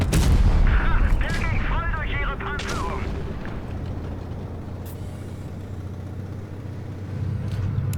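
A heavy tank's cannon blasts in the Tanks Blitz video game, a sharp booming shot up front followed by fading rumble and engine hum, with a player speaking over it.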